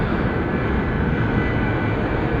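An airliner taxiing at Atlanta Hartsfield airport, a loud, steady jet engine roar and whine held close by, with no talk.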